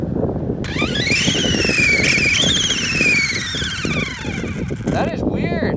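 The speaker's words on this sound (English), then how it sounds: "Sounds like my motor's going out." An electric motor in an RC car makes a strained, failing sound: a loud, high whine that sweeps up and down over gritty rattling from the drivetrain, with wind rushing past the microphone.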